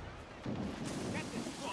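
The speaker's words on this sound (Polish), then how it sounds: "Jest strzał." A cannon fires in the pirate naval combat of Assassin's Creed IV Black Flag, a faint dull boom swelling briefly over low background game noise.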